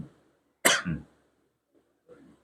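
A single loud, harsh cough bursts out near the mic, followed by a pause and a short, quieter throaty sound like a second weak cough.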